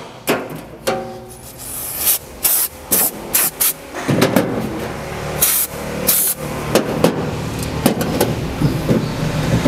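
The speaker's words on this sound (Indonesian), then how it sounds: "Kita akan gunakan carbo cleaner untuk membersihkan, membuang kotoran yang ada pada kampas rem" Carburetor cleaner sprayed onto brake pads during a 20,000 km periodic service, coming as a series of sharp hissing bursts, some brief and some longer, with clinks and rubbing handling noise between them.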